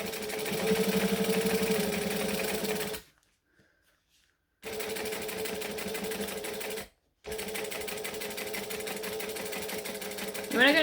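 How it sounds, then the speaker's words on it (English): Sewing machine stitching around a vinyl bag at a slow speed setting, a steady mechanical whir running continuously with two brief pauses, loud and close. "we're going to stitch the whole way around again"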